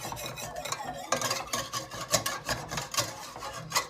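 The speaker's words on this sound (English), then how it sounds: "get your whisk into the edges of your pan" A whisk stirring a roux mixture in a pan, giving steady scraping, rasping strokes against the pan's bottom and edges with rhythmic clicks of wire on metal, close and fairly quiet.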